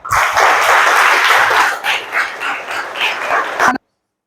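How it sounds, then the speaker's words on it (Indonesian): Schoolchildren in a classroom burst into brisk, dense clapping that stays loud for a few seconds, thins into scattered claps, then cuts off abruptly. "tepuk tangan untuk kita semuanya"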